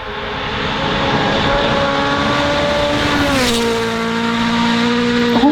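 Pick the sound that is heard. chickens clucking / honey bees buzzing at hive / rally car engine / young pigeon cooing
rally car engine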